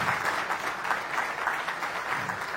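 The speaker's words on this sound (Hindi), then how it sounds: "जोरदार तालियां।" Seminar audience of railway workers clapping continuously, a steady, even wash of applause filling the room for a couple of seconds with no voices over it.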